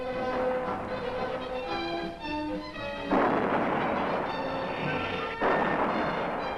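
Artillery weapons fire during testing at Fort Sill, Oklahoma. Two heavy blasts break through sustained orchestral music, each followed by a broad rumbling roll.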